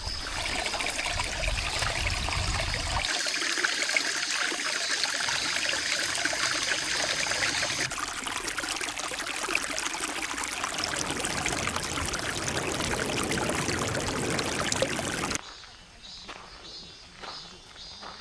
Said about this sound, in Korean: 개울이 하나가 있습니다.